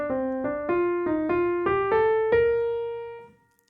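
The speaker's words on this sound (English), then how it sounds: "The scale motion is going to sound like this" Inverted melodic minor scale run played ascending as eight evenly spaced plucked notes, each rising a step, the final note sustained and decaying to silence, close and solo without talk.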